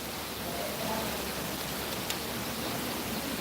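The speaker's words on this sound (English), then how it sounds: "But it's so heavy, it looks like a mist. That rain over there, look." Heavy rain falls during a storm in Cuba, a dense, steady hiss of downpour filling the whole stretch without a break.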